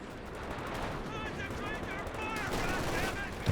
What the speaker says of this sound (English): that mortar actually doing some good damage for SkyGreen